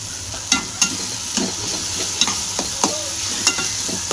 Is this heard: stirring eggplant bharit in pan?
yes